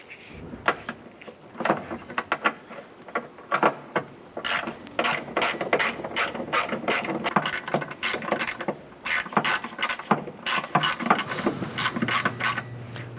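A wrench ratchets steadily as a nut is snugged down on the starter solenoid of a 1993-1997 Ford Ranger, giving quick repeated mechanical clicks in uneven bursts close to the microphone, with no talking.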